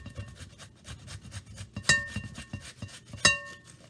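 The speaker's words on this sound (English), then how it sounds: "about a half an onion. And just grate it." Half of a large sweet onion being rubbed across a grater, a steady run of soft rasping strokes close by with two sharper scraping peaks, and no talking.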